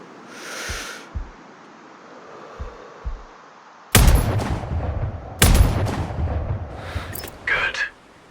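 Rifle fire in the video game Sniper Ghost Warrior Contracts: a loud, close shot cracks after a quieter stretch of faint thumps, then a second heavy report follows with a long rumbling tail. A voice speaks in the game.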